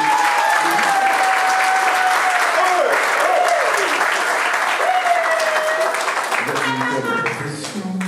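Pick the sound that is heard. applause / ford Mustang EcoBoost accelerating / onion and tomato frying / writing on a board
applause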